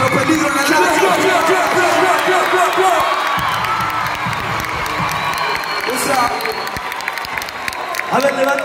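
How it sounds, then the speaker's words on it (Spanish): A theater crowd at a live farewell show at Teatro Gran Rex claps and cheers loudly, with shouts and whoops rising over dense applause and a voice speaking through it. "quiero que todos arreglen un fuerte aplauso a Pedro Peligro"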